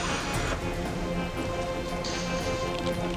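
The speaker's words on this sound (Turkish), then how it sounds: "Yağmur yağıyor." Steady rain falls continuously, a dense, even hiss of drops close by with no pauses.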